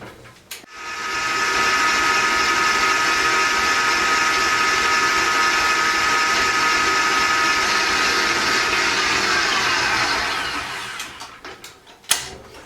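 A Kenwood stand mixer creaming room-temperature butter for buttercream, a steady loud motor whir running unbroken for about ten seconds before spinning down and stopping with a final clunk.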